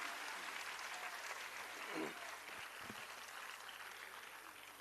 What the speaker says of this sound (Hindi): एक बार जोरदार तालियों के साथ अभिनंदन